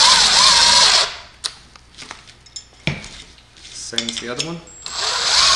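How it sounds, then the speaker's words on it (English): An impact wrench with a 1/2 inch socket buzzes loudly while tightening a nut during assembly of an explosion-proof LED light, with a voice speaking briefly between two bursts of the tool. "Using your impact, the 1/2 inch socket."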